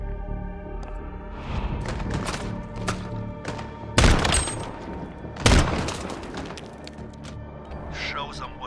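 Gunfire and explosive cracks from the Call of Duty Modern Warfare 2v2 Alpha, with two loud sharp bursts standing out over a busy bed of game sounds and voices.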